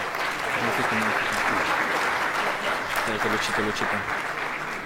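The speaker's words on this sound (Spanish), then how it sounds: "para tributarle un fuerte aplauso al expositor Luis" Strong applause from an audience for the speaker Luis Moscoso, a continuous dense clapping wash at steady volume with voices calling out over it at moments.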